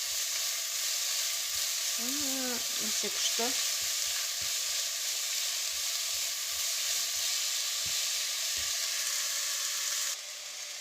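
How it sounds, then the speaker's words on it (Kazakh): Onions fry in oil in a pot, a steady sizzling hiss running throughout, with a few scraping stirs and a short spoken comment early on; near and moderately loud. "Араластырып сарғайғанша қуырамыз."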